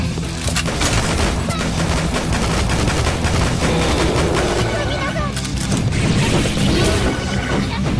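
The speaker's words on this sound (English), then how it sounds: "I can shoot in the air!" Rapid bursts of gunfire fill the Dead or School video game, zombie-fighting in a school setting, a dense, loud, continuous fusillade with crashing impacts and mechanical clatter throughout.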